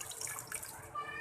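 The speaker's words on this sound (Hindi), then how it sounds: "अब इसमें मैं थोड़ा सा पानी ऐड करूँगी" Water is poured into a pan of anda salan, an egg curry with potatoes, giving a steady broadband splashing pour that stays moderately loud and close for about a second.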